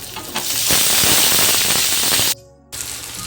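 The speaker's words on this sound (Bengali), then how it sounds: "পেঁয়াজটা আমার ভাজা হয়ে গেছে। এবার আমি দিয়ে দেবো একটা কেটে রাখা টমেটো।" Chopped tomato dropped into hot oil with fried onions, seasoned with salt and turmeric, crackling and sizzling loudly in a pan, with a brief near-silent gap before the frying noise resumes.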